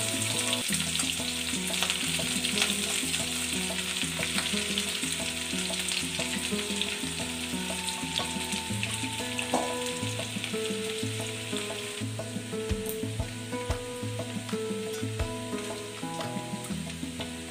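Onion frying in a modest amount of oil for chicken chaap, a steady bright sizzle that runs throughout, close and continuous, over a backdrop of soft music and no talking.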